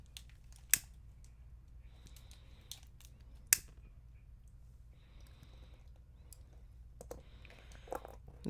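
Scissors snip macrame bracelet cord in a few short, sharp, close cuts, separated by quiet pauses and soft handling clicks in a hushed room.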